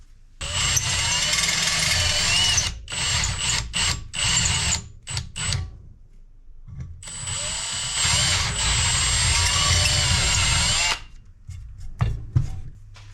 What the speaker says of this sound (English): need to get a nice clean hole right through there with the drill bit